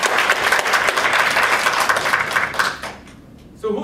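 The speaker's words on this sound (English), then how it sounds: "Can we give them a big round of applause?" A room of people at a leadership training program gives a big round of applause, dense continuous clapping that fades out near the end before a brief noise.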